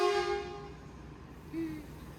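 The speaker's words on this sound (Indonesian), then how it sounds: "KRL berangkat dari stasiun Lampuyangan menuju ke tujuan akhir Yogyakarta." A KRL commuter train sounds its horn while departing Lampuyangan station in Yogyakarta, a loud tonal blast followed by a short second hoot over a low rumbling background.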